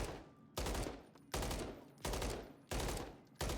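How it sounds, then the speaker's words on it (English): Call of Duty weapon fire from a 30-round magazine, heard as five loud, evenly spaced bursts of a few shots each, with each burst trailing off before the next. "Let's just aim to shoot maybe 4 at a time."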